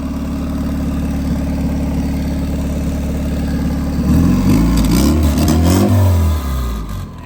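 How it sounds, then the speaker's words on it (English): A turbocharged Honda Civic engine idles steadily, then revs up several times in rising and falling surges, loud and close, with no talking over it. "Let it warm up a little, then rev it."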